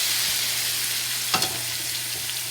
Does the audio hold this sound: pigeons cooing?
no